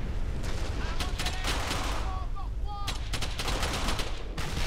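Bursts of rifle and machine-gun fire from the World War II shooter Brothers In Arms: Hell's Highway, rattling steadily in dense clusters over a loud battlefield din with faint voices mixed in.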